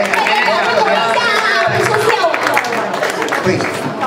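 Audience applause for a performer at a Shanghai community Lunar New Year gathering, a steady crowd clapping with loud chatter and murmuring voices throughout.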